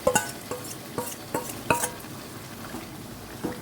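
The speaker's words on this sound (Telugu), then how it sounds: "ముందుగా మనం మ్యారినేట్ చేసి పెట్టుకున్న చికెన్ అంతటిని వేసేద్దాము." Marinated chicken tipped into a hot pan for a spicy restaurant-style curry, with sharp scraping stirs and clinks of a utensil against the pan at irregular intervals over a low, faint background sizzle.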